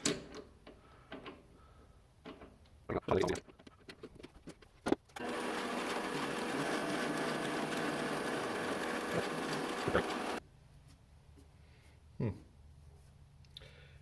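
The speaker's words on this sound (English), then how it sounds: "just pop it in the lathe and face it off" A metal lathe faces off the end of a cast workpiece of melted inlay metal, giving a steady, dense cutting hiss for about five seconds, with scattered clicks and taps before and after.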